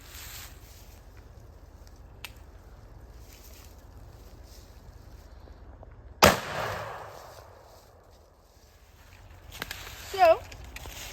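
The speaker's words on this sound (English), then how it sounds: "So we got a 20 gauge shotgun, shooting a 3-inch precision teal shell" A 20 gauge shotgun fires a 3-inch precision teal shell during an outdoor ballistic test: one sharp, loud, close blast that rings out and decays over a couple of seconds, with a few faint thumps and knocks before and after.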